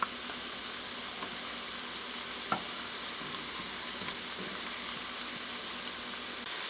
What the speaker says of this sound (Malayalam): കുറച്ച് സ്പേസ് ഇട്ടിട്ട് നമുക്ക് ഫ്രൈ ചെയ്തെടുക്കാം.